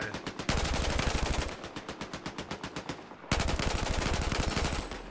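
Rapid automatic gunfire from a gun in the video game Battlefield 4, loud, close bursts of fast, evenly spaced shots with a short pause partway through before firing resumes.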